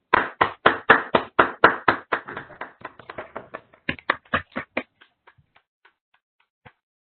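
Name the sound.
conference audience applauding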